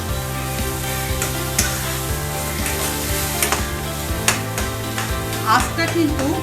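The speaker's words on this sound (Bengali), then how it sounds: "লঙ্কার যে পেস্টটা আছে তার সাথে আমি ভালো করে কষবো, একদম শুকনো অবস্থায়।" Chili paste stir-fried dry over a full flame for fig bharta, a steady sizzle with repeated scraping stirs and clicks of the spatula, heard over continuous background music.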